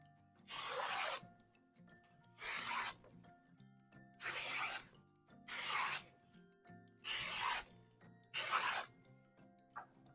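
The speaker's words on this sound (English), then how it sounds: "I'm going to cut the rest of these strips" Six regular bursts of rough, rasping fabric cutting for a quilt border, each stroke about a second long with short pauses between, close and fairly quiet over a faint steady hum, the last stroke cut short.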